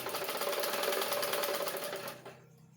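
Electric sewing machine stitching blouse neck pieces for a size 32 blouse, running in a steady fast whirring rattle for over two seconds before winding down to quiet, close and alone.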